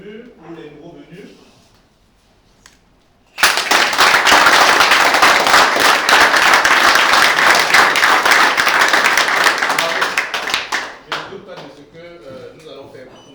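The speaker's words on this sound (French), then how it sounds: "je vais vous demander d'applaudir pour vous, pour les promus, pour les nouveaux venus" Loud, sustained applause from a large crowd at a corporate team-building event erupts suddenly, holds steady for several seconds, then tapers off into scattered claps and murmuring.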